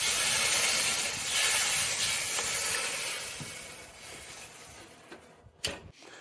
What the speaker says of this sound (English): Now pop this into the oven and add some steam.